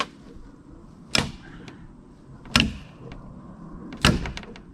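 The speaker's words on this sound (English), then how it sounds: "nope, that sound was the string breaking." An old rope string on a homemade DIY swing snapping, heard as three sharp cracks spaced about a second and a half apart over a low outdoor background hum, no voices.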